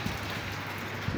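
Steady rain falls on an outdoor surface in the early morning, a dense, even hiss with no voices.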